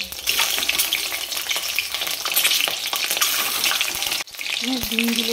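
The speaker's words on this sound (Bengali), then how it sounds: "তেলটা গরম হয়ে গেলে আমি ডিমটা ছেড়ে দেবো। সব ডিমগুলোকে দিয়ে দেবো।" Eggs fry in hot oil with a loud, continuous sizzle and crackle, punctuated by stirring scrapes, and the frying briefly drops off near the end before resuming.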